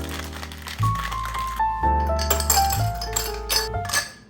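Maple brown sugar creamer and coffee being shaken in a cocktail shaker, giving a run of rattling ice and metal clinks with pauses between bursts, close and moderately loud.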